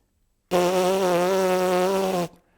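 A trombonist buzzing his lips without a mouthpiece to sound an F: one steady, reedy, sustained buzz lasting almost two seconds, close and loud, alone after brief silence.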